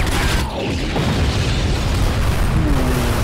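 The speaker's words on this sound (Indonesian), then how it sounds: "Meledak dong." An explosion in the video game Resident Evil 4 lets out a loud, deep boom with heavy rumbling that fills the moment before fading into a dense roar.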